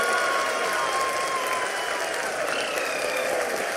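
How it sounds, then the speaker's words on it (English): People applaud during the Chandrayaan soft landing, a steady wash of clapping from a crowd held evenly throughout, with faint tonal sounds underneath. "People are applauding."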